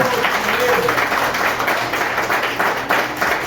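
A church congregation claps hands together in a loud, continuous burst of applause, with voices mixed in beneath the clapping.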